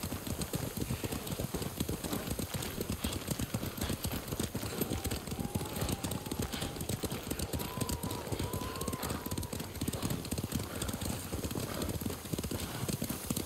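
Horses' hooves clip-clopping in Ghost of Tsushima, a steady, rapid, close patter of running hooves that continues throughout, with faint vocal sounds briefly rising above it.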